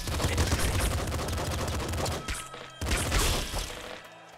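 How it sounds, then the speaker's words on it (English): Rapid automatic revolver fire spraying like a Gatling gun in the video game Nuclear Throne, a dense loud burst of shots that breaks off briefly and then resumes. "I can fire this as a Gatling gun"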